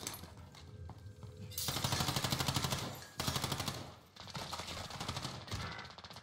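Automatic gunfire in the video game Call of Duty: Warzone comes in loud, sustained rattling bursts with short breaks between them, up close and filling the scene.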